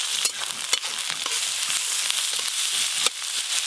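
Chopped onion fries in mustard oil seasoned with black cumin, giving a steady close sizzle with occasional crackles and stirring clicks.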